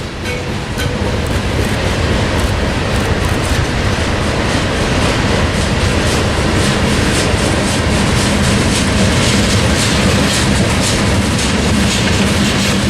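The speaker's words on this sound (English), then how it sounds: "Just get the end of this train really quick." A freight train rolls past at Monolith in Tehachapi, with two GE Evolution (GEVO) locomotives at the rear. Its loud, steady rumble and rhythmic wheel clatter carry through the whole stretch, with no voices.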